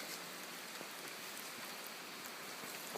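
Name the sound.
rain droplets falling off trees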